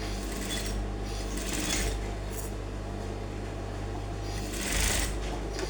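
A sewing machine stitches a crop top with a continuous, close, steady hum that runs throughout, with faint rubbing of fabric on top.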